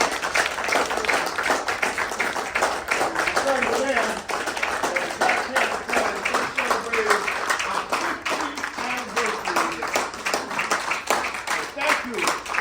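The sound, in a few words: audience applauding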